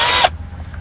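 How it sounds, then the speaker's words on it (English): A power drill drives a 3/4-inch TEKS self-drilling lath screw inside a Ford E350 van conversion, giving one loud, brief whirring burst that cuts off abruptly and leaves a low background hum. "I got my drill."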